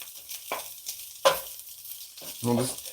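Potatoes are stirred in a cast iron pan, giving three short bursts of scraping and sizzling separated by near-silent pauses.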